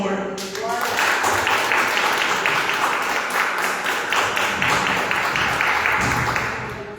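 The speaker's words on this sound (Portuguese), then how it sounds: "Queridos, aplauda o Senhor" Applause rises from a church congregation, a loud, dense roar of clapping that swells in after a brief opening and continues steadily, with voices mixed into the crowd noise.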